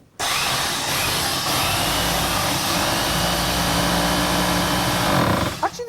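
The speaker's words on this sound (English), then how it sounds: "for the very first time on television, I'm picking up a drill. I'm going to plunge it in here" A handheld electric drill bores into a brick wall, a loud, steady grinding whine that runs unbroken for several seconds and then cuts off abruptly.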